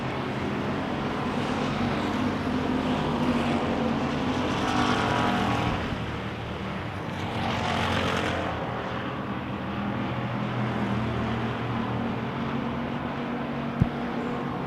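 Wissota Pure Stock race cars roar around a dirt oval in a steady, continuous engine drone that swells slightly as the pack passes, heard from a distance with no voice over it.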